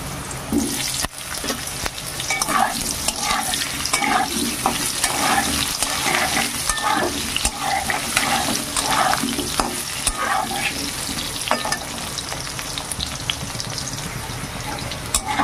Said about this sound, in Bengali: ডুমো ডুমো করে আলু দুটোকে ভেজে নেব।